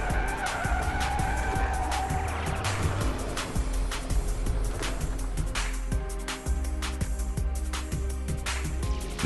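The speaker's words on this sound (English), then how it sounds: "due to this abrupt steering maneuver, the vehicle starts to skid" A car skids after an abrupt swerving steering maneuver in a driving simulation: a continuous loud, rough engine and tire roar with scattered sharp clicks and crackles, with no voices.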